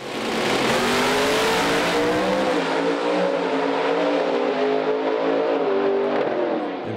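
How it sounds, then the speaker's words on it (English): Two Pro Stock drag race cars with Allen competition engines roar at full throttle at GALOT Motorsports Park, a loud sustained engine blast with rising and shifting pitch through gear changes, no voices over it. "We got two Allen competition engines here."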